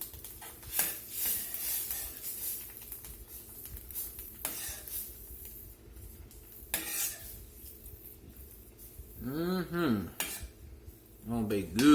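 Homemade shrimp stock poured into a pot for shrimp etouffee, then stirred with a spoon: scraping and clinking against the metal pot, a few sharp knocks, and a brief whistling ring near the end.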